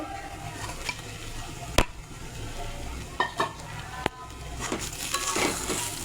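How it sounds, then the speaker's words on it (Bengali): Fried fish heads go into a pan of cabbage curry with potatoes and spices, with a steady sizzle under scraping stirs and a few sharp utensil knocks against the pan, close up with no talking. "তা এখন আমি ভেজে রাখা মাছের মাথাগুলো দিয়ে দেব।"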